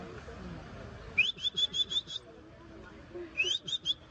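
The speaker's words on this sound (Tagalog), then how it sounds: "Sakit sa tenga yata yung sipol ko" At a zoo, a person whistles two quick runs of short, high, bright notes, the first longer and the second shorter, over low background murmur.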